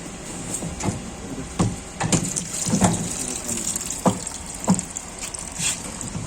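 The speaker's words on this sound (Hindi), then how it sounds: "ये देखिए, गंदा पानी आना शुरू हो गया।" Dirty water drains from a Kruger KV 50 wet-and-dry vacuum machine, a steady gushing, splashing flow with scattered sharper splatters over about six seconds, fairly close and with no talking.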